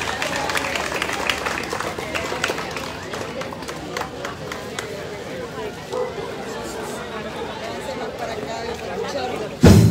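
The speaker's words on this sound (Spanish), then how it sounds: "Así que fuerte los aplausos." Crowd at a street parade in San Rafael Obrajuelo claps as a Latin band is announced, with dense, fairly steady clapping mixed with crowd chatter for several seconds before it thins out.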